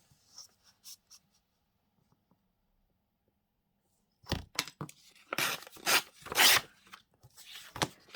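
Paper torn from a book page while altering a book, a few short soft rips at first, then a louder run of ripping and scraping up close with nobody talking.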